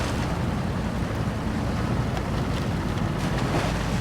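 An off-road vehicle crossing water on an expedition trail, a steady loud wash of splashing and rushing water mixed with low engine rumble and wind buffeting, continuous throughout.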